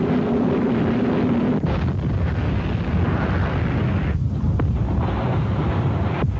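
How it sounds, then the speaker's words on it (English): A loud, sustained roar and rumble of an Exocet missile striking a ship's hull and the ship bursting into flames, with continuous blast noise, wind-like rush and brief pops throughout. "The Exocet missile rips into the hull and the ship bursts into flames."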